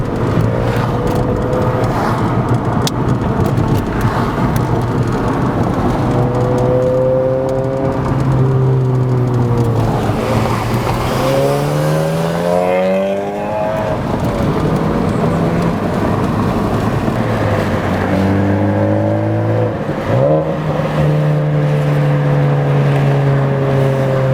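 A Honda Civic Type R with a new downpipe, front pipe, charge pipe and Hondata flash accelerates hard, its engine note rising through the revs, dipping at gear shifts, then climbing again, loud and close.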